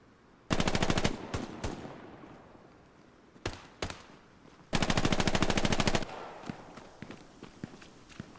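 MG42 machine gun fire in a World War II shooter game on Omaha Beach: two long rapid bursts and several shorter bursts and single shots, loud and close, without voices.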